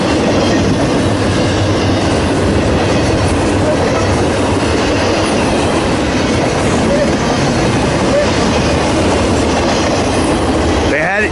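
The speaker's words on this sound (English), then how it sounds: "This is the eastbound on the NS Reading line." An eastbound Norfolk Southern freight train on the Reading line passes close by, a loud continuous rumble and clatter of wheels on rails that fills the whole stretch without letting up.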